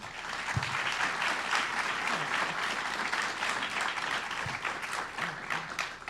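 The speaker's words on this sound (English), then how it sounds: "If I could get an applause for our candidates." Audience applause for candidates at a Democratic candidate forum, a steady wash of many hands clapping that sustains evenly throughout, with no talking over it.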